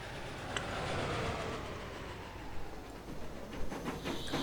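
A grain train rolls along the tracks in Transport Fever 2, a steady rumbling wagon noise with clickety-clack wheel beats and faint high squeals, continuous and fairly loud, with no voices.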